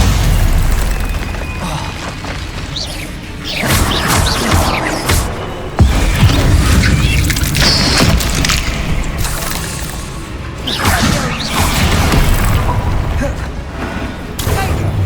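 Confringo spell blasts in Hogwarts Legacy combat: repeated heavy booms and crashing bursts, close and loud, spread across the whole stretch amid dense battle noise.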